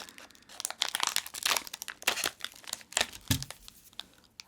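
A crinkly Japanese snack wrapper, soft yellow and silver, is cut and torn open up close, giving bursts of plastic crinkling and rustling with short pauses between them, no talk.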